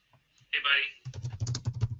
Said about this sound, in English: as it's playing, I can type what's going on